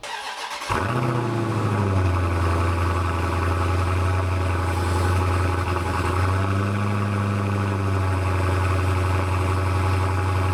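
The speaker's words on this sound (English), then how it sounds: "you probably shouldn't get a Dodge Challenger ScatPack if you want to have a quiet car." A Dodge Challenger ScatPack with a mid-muffler delete fires up and settles into a deep, rumbling idle, loud and close, with a brief rise in pitch partway through before it steadies again.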